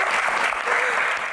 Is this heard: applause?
yes